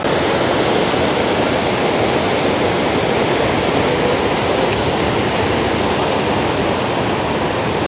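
Barachukki waterfall on the Kaveri river at Shivanasamudra roars as a loud, unbroken wash of rushing water with no voices over it.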